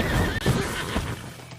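A horse neighs loudly and close, a drawn-out whinny over a steady background, with faint hoof clops mixed in and no talking.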